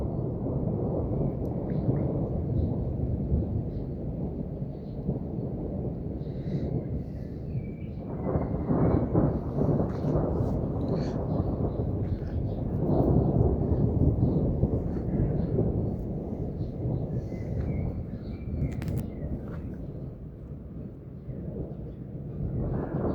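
Thunder from a nearby lightning strike in rocky terrain rolls in long, deep rumbling swells that rise and fade over more than twenty seconds, with no other sounds.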